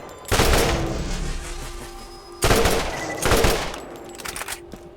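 Tediore combat rifle in Borderlands fires in slow, loud bursts, two heavy volleys of rapid shots separated by a pause, followed by fainter trailing shots.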